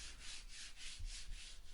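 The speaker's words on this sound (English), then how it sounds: "Just before painting, I gave it all a light sanding down" Light hand sanding on a vintage Record No.50 carpenter's vice before painting, a soft rhythmic rubbing of abrasive with strokes repeating about every 0.4 seconds, close and steady with no talk.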